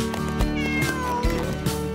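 A kitten meowing, a steady drawn-out cat cry over a dense, busy background, loud and continuous throughout.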